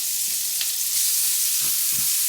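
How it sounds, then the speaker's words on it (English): Onion frying in a pan gives a steady, bright, hissing sizzle close by, with a few soft stirring scrapes and no talking. "And I'll start cooking the onion. Just fry that for a few minutes so it gets translucent."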